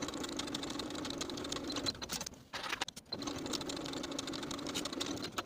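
A sewing machine runs continuously along tank top side seams, a steady close motor buzz that pauses briefly midway for backstitching before resuming, with pigeon-like cooing in the background.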